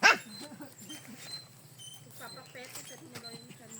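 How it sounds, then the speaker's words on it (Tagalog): A bulldog yelps sharply up close at the start, then gives a string of soft whimpers and whines with a voice speaking quietly in the background. "Bulldog."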